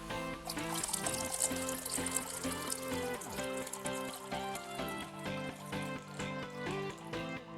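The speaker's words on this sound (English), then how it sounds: "Now add 1 liter of water." Water pours steadily into a large mixing bowl of tamarind pulp for Calcutta-style phuchka water, a soft trickle heard faintly beneath prominent background music.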